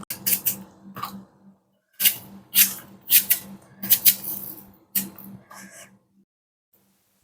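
A knife cutting an onion into small pieces for an egg curry, with sharp, crisp chopping strokes in irregular bursts, close and clear with short pauses between.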